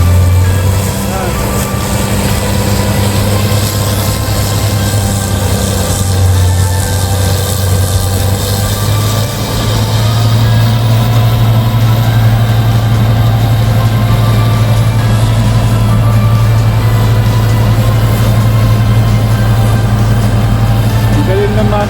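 A street snow removal machine's engine runs in Canada, holding a loud, steady low drone for the whole stretch with a slight shift partway through.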